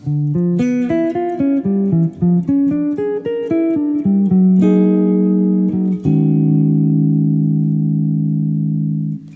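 Electric guitar runs quickly through a string of single-note diminished jazz lines, then settles onto a sustained ringing chord that fades out.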